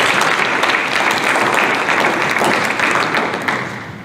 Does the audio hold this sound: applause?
yes